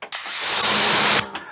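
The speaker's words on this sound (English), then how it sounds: "So I'm going to snow foam the bonnet again" A snow foam cannon sprays a car's bonnet, letting out a single close, loud hiss of spray that lasts about a second, then cuts off.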